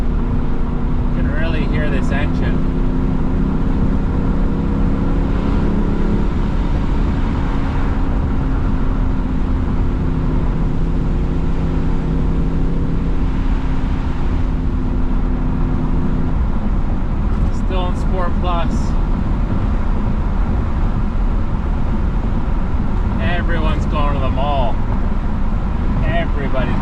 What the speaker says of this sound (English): you can really hear this engine